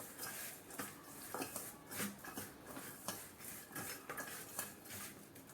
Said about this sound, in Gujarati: હવે આપણે હાથેથી મિક્સ કરી લઈએ